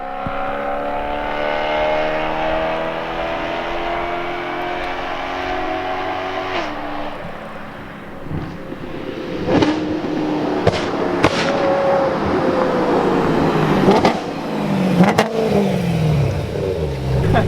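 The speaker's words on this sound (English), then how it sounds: "when you backfire, you can hear it go through the whole canyon" A BMW E90 M3 engine revs, climbing and dropping in pitch, while sharp, loud exhaust pops and bangs burst out repeatedly, echoing through a canyon.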